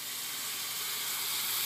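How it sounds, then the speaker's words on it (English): Hot water boils rapidly in a pot of rice, giving a steady, faint hiss and bubbling that continues evenly without any talk. "So now it's boiling rapidly, as you can see, because this is hot water."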